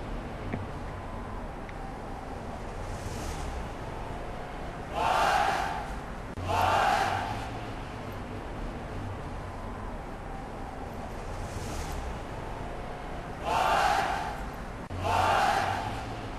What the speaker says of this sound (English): this crowd is disrespecting Alberto Del Rio